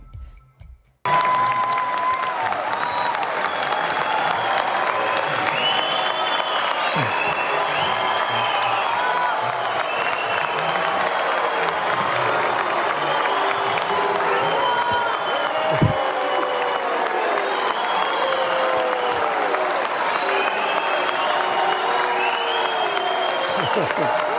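Sustained applause from a theatre audience greeting Javier Milei at the Teatro Colón, a dense steady clapping with some cheers that starts abruptly after a brief moment and continues loudly throughout, with faint voices mixed in.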